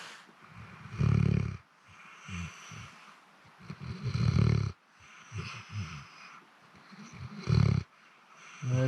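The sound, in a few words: dog snoring while sleeping in a fishing boat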